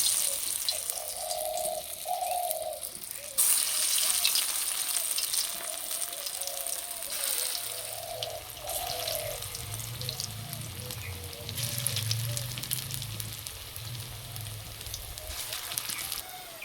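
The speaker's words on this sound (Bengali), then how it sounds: "মাখাটা হয়ে গেছে, এবার পকোড়াগুলো ভেজে নেব।" Mustard greens pakoras deep-frying in mustard oil, a steady crackling bubble throughout with a few clattering bumps and a low rumbling hum swelling in the middle.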